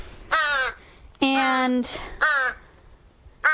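Crows in an enclosure at an animal sanctuary give three loud, harsh caws close by, each separated by a short pause, with a brief fourth call starting at the end.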